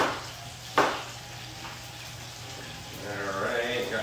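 Whole yellowtail snapper frying in a pan, a soft steady sizzle under a sharp utensil knock near the start, with the hiss rising toward the end.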